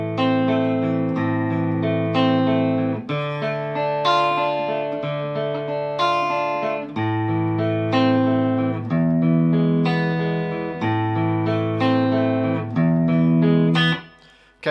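Electric guitar plays a song through effects with some distortion and reverb, steady picked chord patterns repeating over a low bass line, loud and up close.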